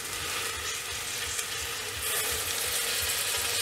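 Onions and tomato sauté in a pot for mint rice, producing a continuous close frying hiss that grows slightly louder partway through, with faint stirring underneath.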